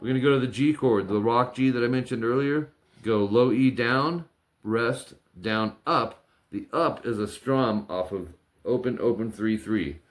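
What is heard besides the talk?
No everyday noises stand out.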